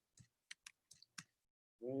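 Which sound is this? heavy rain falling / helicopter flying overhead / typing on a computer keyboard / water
typing on a computer keyboard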